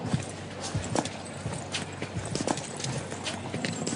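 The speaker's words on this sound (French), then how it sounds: "le bruit des sabots sur les pavés, qui résonnait dans un silence de plomb" Horse hooves clip-clop on cobblestones in an uneven walking rhythm of sharp, close knocks over a low steady background.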